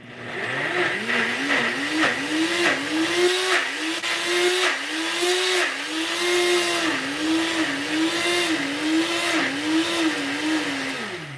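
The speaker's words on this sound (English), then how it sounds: "I'm actually using the attachment on the NutriBullet that is what they call the super attachment" A NutriBullet blender fitted with its super attachment purees greens, its motor whirring loud and steady for over ten seconds with a pitch that wobbles up and down as the blade churns.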